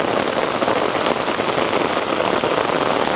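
Heavy rain pours down steadily on pavement in downtown Toronto, a dense, even roar of close drops with no break and no voices.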